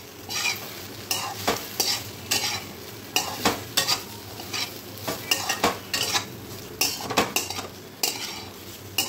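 Already fried medu vada being sautéed with dry spices over a low flame as a dry snack, a close, busy sequence of spoon scrapes and metal clinks against the pan over a soft, constant sizzle, with no talk.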